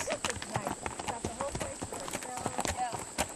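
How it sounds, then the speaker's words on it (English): Ponies walk on a windy, chilly upland trail at Grayson Highlands, their hooves giving quick, uneven clip-clops close by while a person talks over them throughout. "We are coming up to a couple of the ponies."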